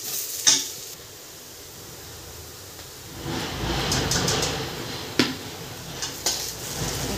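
Spoon stirring gram flour into frying onions for an onion spring roll filling, soft scraping and sizzle with a couple of sharp utensil clinks against the pan, fairly quiet and close.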